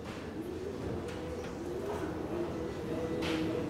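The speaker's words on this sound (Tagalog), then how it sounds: "Breeder mix yan mga kalapatids." Breeder mix pigeons coo softly at a loft, with low rolling calls repeating through a light outdoor background.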